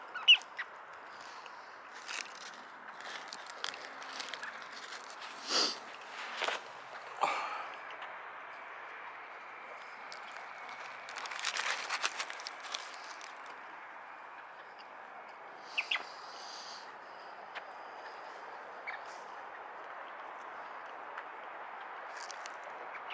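Waterfowl call outdoors near the listener: scattered duck-like quacks and honking squawks come in short bursts over a quiet background, some loud and close, others fainter.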